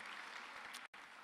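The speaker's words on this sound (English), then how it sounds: "I want to hear a cheer or something" An audience at a summit on human migration cheers and applauds, a dense, steady wash of clapping and whoops that cuts out briefly near the end and then resumes.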